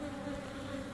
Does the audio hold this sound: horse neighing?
no